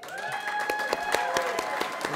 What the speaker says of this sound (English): And now please do hold your applause till the end.